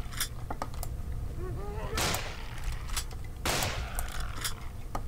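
Gunfire in the video game Nightmare House 2 sounds as several sharp, loud shots at irregular intervals, with a few lighter clicks in between, over a low rumbling game background.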